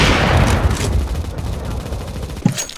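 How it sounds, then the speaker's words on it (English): Gunfire in a competitive shooter video game (CT side mentioned), a dense, continuous burst of shots throughout with a sharper crack near the end, while players chatter over it. "Start shooting."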